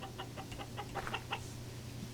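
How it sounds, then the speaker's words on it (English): Chickens in the video game Vintage Story clucking softly, a rapid run of short clucks over a low steady background hum, fairly faint. "Oh, those are chickens."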